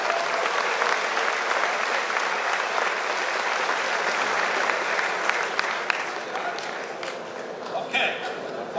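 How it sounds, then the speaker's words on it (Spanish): A conference audience claps loudly and steadily in a large hall, a dense wash of applause tapering slightly near the end, with some voices underneath. "Y dense un aplauso fuerte."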